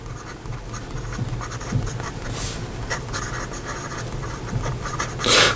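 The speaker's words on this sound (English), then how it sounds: "here we go with the writing sample for the Taccia Winter's Breath" An 18 karat gold nib on a Taccia Winter's Breath fountain pen scratches softly across paper, a faint, close, continuous scritching with small strokes and a brief louder scrape at the end.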